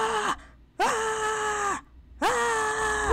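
A voice acting as a constantly screaming head lets out three long, loud, strained screams with brief pauses between them.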